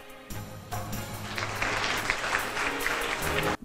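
An auditorium audience at a diplomacy lecture bursts into sustained applause, a dense wash of clapping that holds for about three seconds before cutting off.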